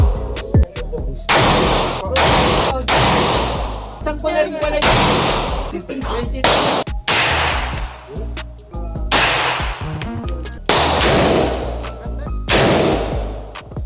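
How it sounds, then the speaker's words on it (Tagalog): Loud gunshots crack one after another with irregular gaps, some in quick pairs, echoing sharply as at an outdoor range. "Sinasabi baril. Nasa shooting range kaya baril."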